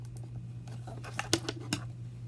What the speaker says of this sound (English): Need the scissors again.